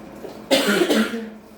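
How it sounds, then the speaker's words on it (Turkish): A single cough from a person who has come in from the cold, a sharp close burst followed by a rougher throaty tail, standing alone with no speech over it. "bakın biraz soğuktu dışarısı o yüzden bir öksürük geldi"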